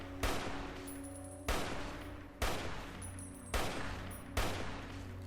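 Armor-piercing rounds fire in Fallout New Vegas as five sharp, evenly spaced gunshots. Each crack rings out briefly before the next, and nobody speaks.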